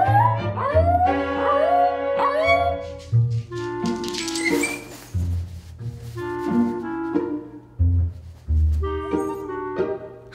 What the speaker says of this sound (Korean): 늑대처럼 하울링까지 시작한다